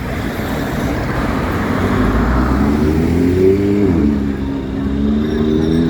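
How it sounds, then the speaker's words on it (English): A bus engine rumbles loudly nearby in street traffic, a heavy low drone that swells as it revs and then shifts pitch, with general road noise around it. "that bus needs an oil change"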